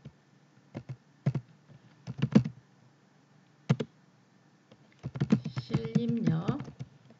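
Keys clatter on a computer keyboard in short bursts of quick clicks separated by pauses, close and crisp, with a person talking over the final burst.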